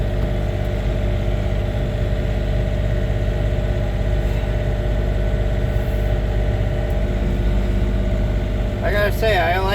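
An antique John Deere A tractor engine runs steadily after a cold start, a loud, continuous low rumbling idle close by, with a brief voice heard near the end.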